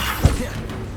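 A Levioso levitation spell goes off in the Hogwarts Legacy video game, with a brief whooshing burst and a low thump near the start, followed by a steady wash of game ambience.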